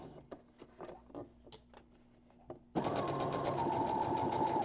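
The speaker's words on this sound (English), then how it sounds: "once I get to the end, I'll stop there, and I back stitch" A sewing machine stitches a triangle zipper bag, starting with a few light clicks and taps before the motor kicks in with a loud, steady, rapid whir of close stitching.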